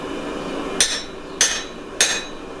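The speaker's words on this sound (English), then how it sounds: "This is one of the longer drifts, which I'm just going to try and hammer straight through now." A steel drift is hammered through the slot of a damascus bearded axe head at the forge: three sharp metallic blows evenly spaced about half a second apart, each ringing briefly over a low background hiss.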